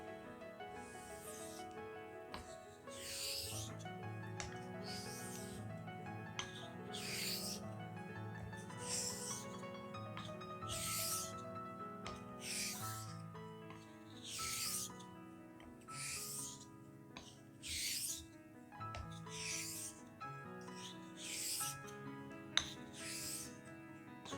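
Straight razor honed with X strokes on a wet whetstone, a run of regular rasping strokes about one per second, moderately loud and close, under a steady musical background.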